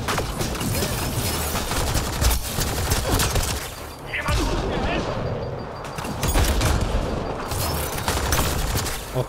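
Rapid bursts of gunfire and explosive impacts from combat in the video game Mass Effect: Andromeda, loud and dense with short pauses, while someone talks over the fighting.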